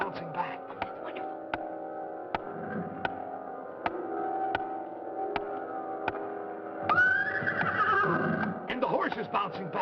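A horse whinnies over a steady droning hum, with sharp clicks repeating at intervals and a louder, rising call near the end.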